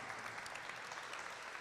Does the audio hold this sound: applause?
yes